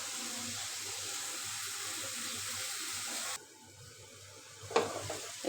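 Native chicken cooking in a pan, a steady close hissing sizzle that suddenly drops to a quieter simmer, followed by a brief clink of a utensil.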